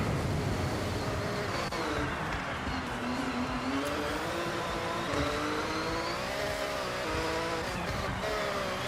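A Porsche engine driving hard in the racing game Forza Horizon 6, a continuous loud drone with pitch climbing and falling through gear shifts, constant throughout with no voice over it.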